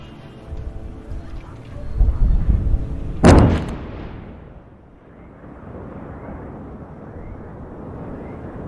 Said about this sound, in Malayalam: ബെയ്റൂത്തിലെ സ്ഫോടനത്തിന്റെ ദൃശ്യമാണ് ഇപ്പോൾ പ്രേക്ഷകർ കാണുന്നത്.